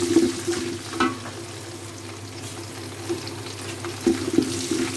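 Cardamom pods, a cinnamon stick, bay leaves and ginger frying in hot oil for Eid pulao, a steady low sizzle with a few louder crackling bursts near the start and again toward the end.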